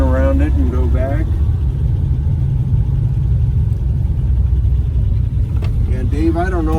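A steady, low engine drone runs throughout from inside a moving 1928 Hupmobile Victoria Opera Coupe, with voices talking over it at the start and end.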